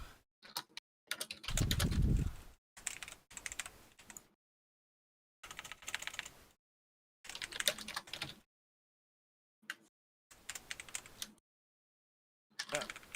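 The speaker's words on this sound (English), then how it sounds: "Sorry, I speak out loud when I type sometimes." Typing on a computer keyboard: close, crisp bursts of rapid key clicks separated by short silences, with a few heavier taps in between, alone and fairly quiet.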